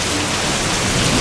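Heavy storm rain pours down outdoors during a wild thunderstorm, a dense, loud, unbroken hiss of rainfall filling the whole stretch with no voices.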